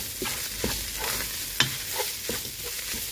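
Onions frying in oil, seasoned with salt and pepper, are stirred in a pan with a steady close sizzle and several soft scraping strokes, no voices.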